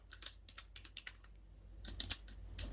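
Rapid, irregular keystrokes on a computer keyboard while typing C program code, close and crisp, with bursts of taps, a brief pause near the middle and no voices.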